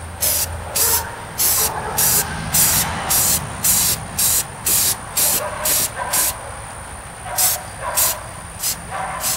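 Spray paint hissing onto one side of a glass mirror, a rhythmic series of short, loud bursts of about half a second each, repeated over a dozen times with brief gaps.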